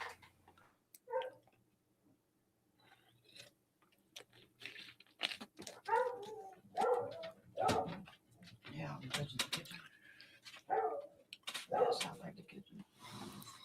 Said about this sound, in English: I'm going to have to get the dog and bring her down. All we're going to hear is barking.